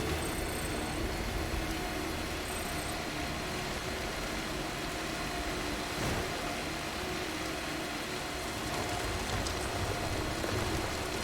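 Steady rain falls in the game Death Stranding in a mountain setting, a dense continuous hiss of drops on surfaces with a low rumble beneath, uniform and fairly loud throughout with no voices.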